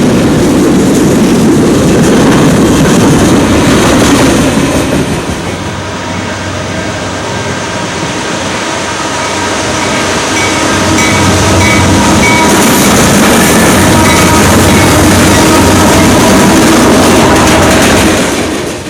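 Empty oil train hauled by combined Norfolk Southern, Union Pacific and Canadian Pacific locomotives, returning from Westville, New Jersey toward the Bakken, rolls past loud and close with steady rumble, wheel clatter and engine drone throughout.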